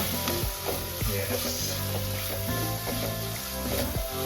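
Fish curry masala sizzles in a pan while being stirred, a soft continuous frying hiss with occasional scraping stirs, set against steady background music.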